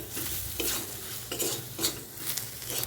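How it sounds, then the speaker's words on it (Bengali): Kashmiri chili powder and turmeric being stirred in a pan for Bengali egg curry, soft scraping strokes of a spoon with a light sizzle underneath, fairly quiet and close. "তারপর এটাকে একটু ভালো মতো নেড়ে নিচ্ছি"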